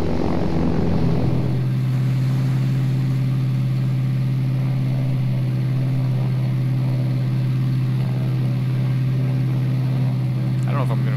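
A civilian propeller airplane's engine in the ArmA 3 game runs as a steady, loud drone with a strong low hum throughout, starting up after a brief rougher moment, with someone talking over it.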